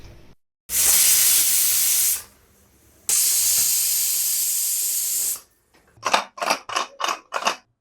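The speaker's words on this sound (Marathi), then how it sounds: "तरी पण शिटी उकलायची आणि प्रेशर काढून घ्यायचं" A pressure cooker in a home kitchen, cooking tendli bhaji, releasing steam in two long, loud hissing bursts, followed by a quick series of short, sharp rhythmic puffs.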